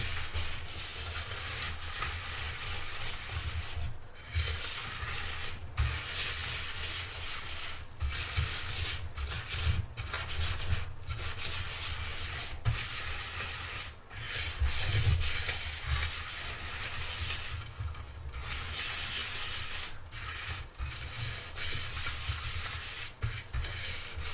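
Hands rub something into a non-stick pizza tray, a close, steady scraping and rubbing with short pauses between strokes over a low background hum, no voices.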